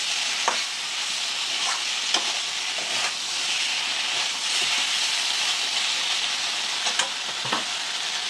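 Whole flat beans are sautéed and stirred over raised heat, giving a continuous close sizzle and hiss. Irregular scraping strokes of a spatula against the pan stand out every second or so throughout, with no voices.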